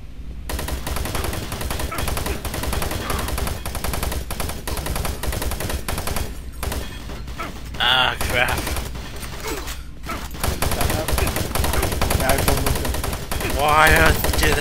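Machine gun fire in the video game Doom 3, rapid repeated bursts of automatic shots running almost continuously, loud and close, with brief pauses and a voice talking over parts of it.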